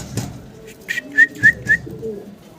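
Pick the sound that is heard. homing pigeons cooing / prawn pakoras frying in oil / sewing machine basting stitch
homing pigeons cooing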